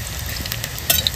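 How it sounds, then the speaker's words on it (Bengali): Onions fry in a clay pot, giving a steady close sizzle with soft scraping and stirring clicks, and a slightly louder burst near the end. "পেঁয়াজটা একটু ভেজে নেবো সুন্দর করে"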